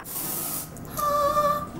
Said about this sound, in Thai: เขาก็เลยคิดค้นดีโอสเปรย์มาให้ค่ะ ซึ่งเขาบอกว่าฉีดปุ๊บ แห้ง ปั๊บ